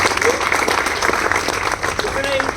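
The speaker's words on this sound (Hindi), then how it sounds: "ऐसे जामबाज के लिए जोरदार तालियों से उसको" Loud applause from an audience at an Independence Day event on 15 August, a dense continuous patter of clapping running for a few seconds with a voice speaking over it.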